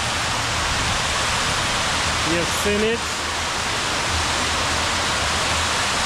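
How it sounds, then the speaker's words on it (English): A small man-made waterfall at Silwane Nature Reserve near Bulawayo gives off a steady, loud rushing hiss of falling water that fills the whole clip, and a person speaks briefly over it partway through. "So this is a mini waterfall."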